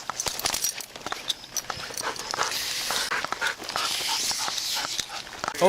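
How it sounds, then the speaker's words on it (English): A police dog pants rapidly and shuffles about close by, breaths coming in quick uneven bursts with some whimpering, collar and movement noise mixed in, and no clear talking. "Casey, I'm gonna put the dog up for now."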